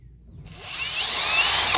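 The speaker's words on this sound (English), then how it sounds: "We're going to start drilling." Power drill boring a weep hole into a sump pump pipe in a basement, a steady high whine that starts abruptly and builds in loudness for over a second before stopping.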